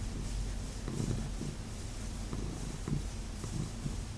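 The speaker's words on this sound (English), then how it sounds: "I hope you can hear those purrs." Abraham the cat purrs in a soft, continuous low rumble, close and quiet, rising and falling steadily with no other sounds.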